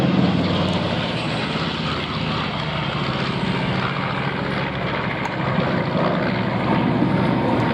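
A B-25 bomber with Wright engines flies over during an air show, giving a loud, sustained, rough propeller-engine roar that holds steady throughout.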